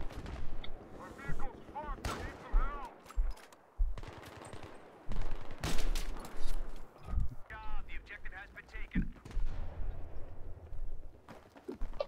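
Gunfire in the video game Battlefield, with bursts of automatic fire and sharp shots mixed among game effects, while players talk over much of the action.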